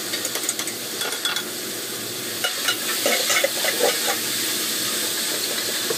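Dried mushrooms and wood ear fungus being stirred and sautéed in a pan for a Chinese New Year dish, a steady sizzle and hiss with scraping stirs and light clinks of the utensil against the pan.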